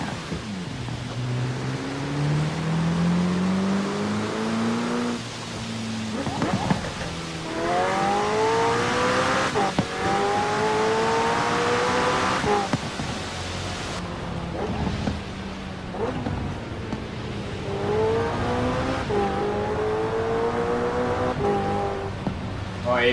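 A McLaren 600LT engine in the Forza Horizon 4 racing game, played on a steering wheel, revs repeatedly, climbing and falling in pitch with loud surges to high revs, while a voice speaks over it at times.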